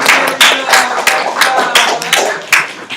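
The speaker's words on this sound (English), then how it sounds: "give yourselves a round of applause here" A small audience claps together, steady and fairly loud, with the claps landing in a loose, even rhythm close by.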